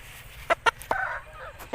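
A lakha-colored aseel rooster gives a few sharp, close clucks in short bursts, with a longer throaty call between them, over a low background hum.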